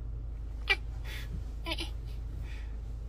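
A pet cat meows in a couple of short, clear calls, fairly close, with a quiet steady hum underneath and no talking.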